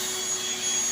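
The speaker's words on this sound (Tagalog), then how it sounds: "Kala ko, takot sa vacuum." A vacuum cleaner runs close by with a steady, loud, high whine as it is used on a cat. The motor drone is unbroken throughout.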